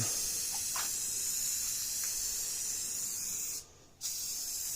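A rattle-can of smoke gray Rust-Oleum spray paint hisses steadily onto a Jeep Cherokee hatch, a continuous close spray with one brief pause near the end.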